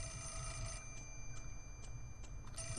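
A telephone rings in the horror game Project Zero: Mask of the Lunar Eclipse, with five or six evenly spaced, bright trilling bursts over a low, quiet ambient hum.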